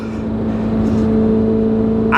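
A Chevrolet C8 Corvette engine revs and downshifts up close, a steady loud exhaust drone that swells slightly and ends in a brief higher-pitched burst.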